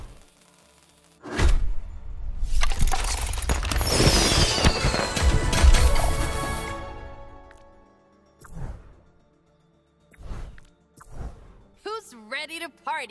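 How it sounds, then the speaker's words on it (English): A Lunar New Year fireworks effect from the Overwatch video game: a loud whooshing, crackling burst lasting several seconds, then scattered thumps and brief sparkling pops, with short character voice lines in between. "How's that for some fireworks?"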